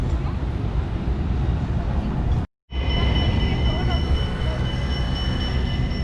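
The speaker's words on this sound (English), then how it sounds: "Do watch out for the tram, please." A tram rolling along a city street in Rotterdam, a loud, steady rumble and wheel noise up close with a brief cut midway, then a thin high squeal over the continuing roar.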